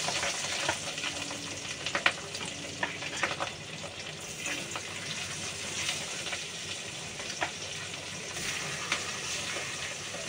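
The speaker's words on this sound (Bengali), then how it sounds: "এখন আমি মাছটা ভাজবো, মাছ ভেজে নিই।" Fish fries in a pan, producing a continuous crackling sizzle at moderate volume, dotted with small pops and occasional clicks of handling throughout.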